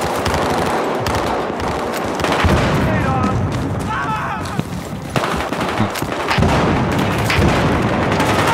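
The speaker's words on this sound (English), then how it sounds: "Tossing frag!" Battlefield Hardline firefight on PS4 with a frag grenade thrown and bursting, heavy booms and rattling gunfire layered over a steady roar, with voices under the din.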